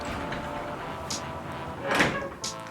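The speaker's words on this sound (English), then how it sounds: "you have this sliding door, like barn door style thing" Sliding barn-style door on a hotel bathroom rolling along its track, with a few soft knocks and a firmer thud near the end, close by in a quiet room.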